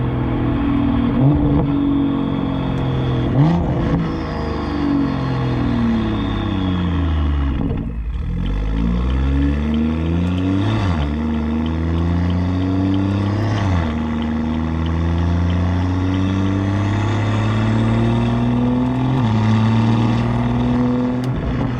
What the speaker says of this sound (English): So this is with the exhaust valves completely open, which is how I drive the car the majority of the time.